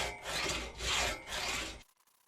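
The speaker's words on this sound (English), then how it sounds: "and then we have a real crosscut saw" A crosscut saw cuts through wood in three slow, rhythmic rasping strokes, close and clear, then stops abruptly into quiet.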